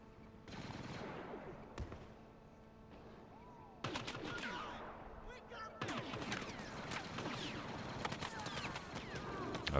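Blaster fire crackles in Star Wars Battlefront during a Hero Hunt match on the Swamp Crash Site map, with rapid bursts of repeated shots that thicken into near-continuous volleys in the second half, while a voice talks over the shooting.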